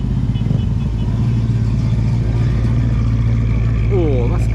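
Engine of a classic Ford Mustang revving at an outdoor classic car rally, a deep, steady, loud rumble throughout, with voices and background chatter over it and a brief rising whine near the end.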